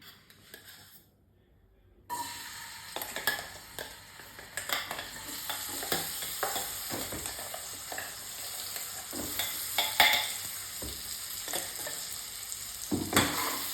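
Chopped dates roasting in desi ghee in a kadai over a low flame for laddus, a steady close sizzle with repeated scraping and stirring clinks, quiet for the first two seconds before the frying noise sets in.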